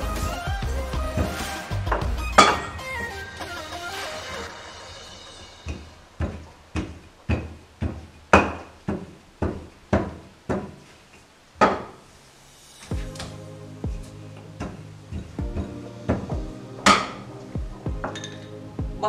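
Rolling pin working roti dough with chickpeas on a board for Caribbean comfort food: a series of close, sharp wooden knocks and clatters, about a dozen spaced roughly half a second to a second apart, with faint background hum.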